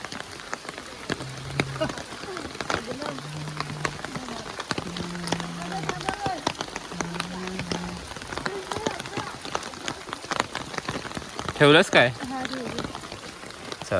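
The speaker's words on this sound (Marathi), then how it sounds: "ते पाऊस काय थांबत नाही, लोक घरी चालले जातात." Steady rain patters and splashes on surfaces throughout, with people talking briefly over it and a short sharper sound near the end.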